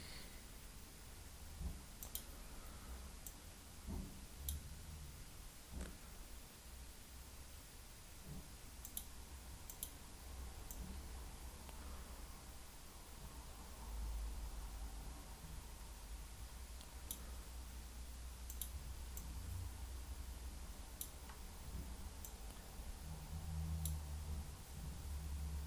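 Sharp computer mouse clicks come in scattered singles and short bursts while diagramming software is in use, sitting close and distinct over a steady low hum from the room.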